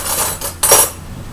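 A knife scrapes and clinks against a mixing bowl while working chocolate chip cookie dough by hand, a few close metallic strokes with a sharper scrape partway through.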